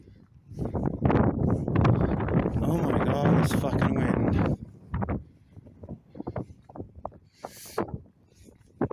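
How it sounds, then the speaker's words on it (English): Heavy outdoor wind buffeting a handheld microphone on a street lined with fourplex apartments, loud rumbling gusts for several seconds that ease into lighter bursts, with a person speaking at points. "this fucking wind"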